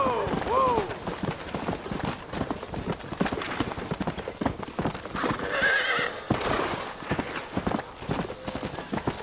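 A horse gallops through open countryside in Red Dead Redemption, hooves beating in a fast, steady clip-clop rhythm up close, with a whinny near the start and a voice talking over it.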